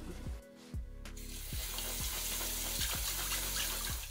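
Tap water running steadily over mushrooms being rinsed in a kitchen sink, a close, continuous hissing splash with faint low background tones.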